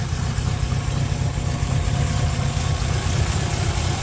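A 350 small-block V8 engine in a 1947 Ford Super Deluxe Convertible idles nearby with a deep, steady rumble and a slight rhythmic lope, running continuously.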